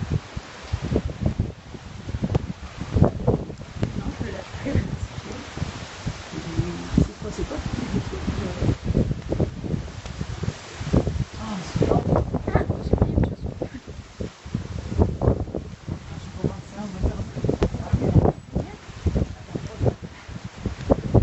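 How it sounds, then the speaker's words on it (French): Gusty wind buffets and rushes in uneven surges during a November storm chase near Montferrier-sur-Lez in Occitanie, France, with voices talking at times over the blustery noise. "Le vent s'est levé."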